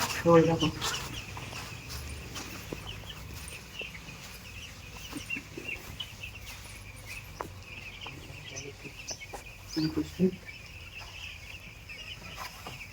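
Young poultry chickens cluck faintly and scattered across a farm shed after being given injections, with soft intermittent calls, some brief louder bursts and occasional talk nearby.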